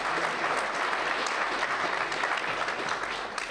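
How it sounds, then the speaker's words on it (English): Audience applause at a mayoral candidate forum, a dense, even wash of many hands clapping that holds steady throughout with no voices over it. "Give yourselves a round of applause."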